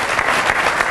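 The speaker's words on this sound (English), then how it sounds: "Would you give him a round of applause for being so nice to come up here?" Audience applause fills a hall after a hypnosis stage show, steady dense clapping from many hands with no break through the short stretch.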